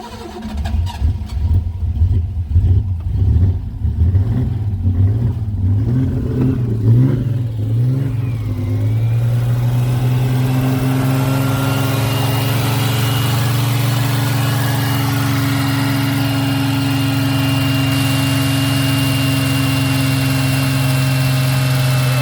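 A Ford Capri race car engine, sitting unused for 20 years, cranks with a rhythmic starter churn, catches and revs unevenly, then settles into a loud, steady, rumbling idle, close by, with no talking.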